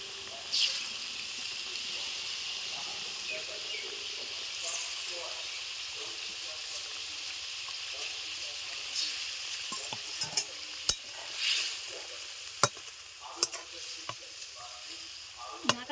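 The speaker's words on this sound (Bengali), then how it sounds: "এখন বাঁধাকপি দিয়ে দিচ্ছি" Shredded cabbage tipped into a hot pan of oil and spices, giving a steady close sizzle with stirring scrapes and a few sharp clinks of a spatula near the end.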